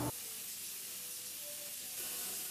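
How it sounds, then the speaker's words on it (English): Closed cell spray foam insulation is sprayed onto the walls and ceiling of a brewery freezer room, a steady, broad hiss that runs the whole time at low level. "we're going to be spraying our closed cell spray foam insulation on the walls and the ceiling"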